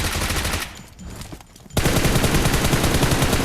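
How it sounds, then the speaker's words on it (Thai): PP-19 Bizon submachine gun firing in PUBG Mobile: a dense burst of rapid automatic shots, a brief quieter gap, then a second sustained loud burst of steady fire to the end, with no talking. "ปืนนี้ผมว่าเราพึ่งได้นะ ใบสันเนี่ย เป็นปืนที่ดีปืนหนึ่งเลย เดี๋ยวผมยิงกดนะครับ"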